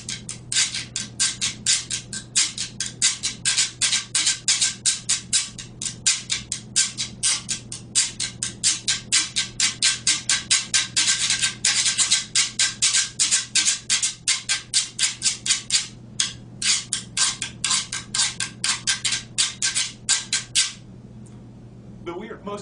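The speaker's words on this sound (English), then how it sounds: "They hollowed the gourd out so that it was empty. They cut striations, marks into it, and give me a nice little scraper." A hollowed gourd scraper, a güiro with cut striations, is scraped in quick rhythmic strokes, a long run of sharp rasping bursts in a steady pattern, close and crisp, ending with a short pause near the end.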